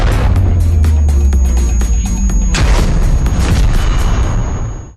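A huge explosion from the demon king's massive energy release in an animated fantasy fight: a loud, sustained booming roar with rapid sharp bursts early on, then a heavy blast that rumbles away.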